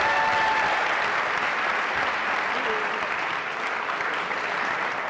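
A studio audience at a Turkish TV game show claps loudly and steadily, a dense, even wall of applause that fills the room for the whole stretch without letting up.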